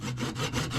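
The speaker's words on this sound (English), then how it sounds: "I will use my one-sided saw to trim these off." A one-sided saw trims teak deck caulking aboard a wooden boat, a close, loud, continuous rasping stroke with brief rhythmic dips as the blade moves back and forth.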